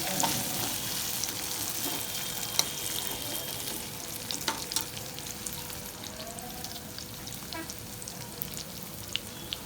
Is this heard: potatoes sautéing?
yes